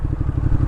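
Ducati Diavel cruiser motorcycle engine rumbling steadily while riding in second gear in traffic, a dense low pulsing throb close by, with no speech.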